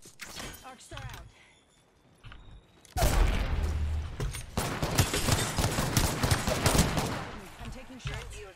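Dense gunfire from an Apex Legends match: a quieter opening with scattered shots, then from about three seconds a loud, sustained burst of rapid automatic fire that stays heavy to the end, with a player voice in the mix.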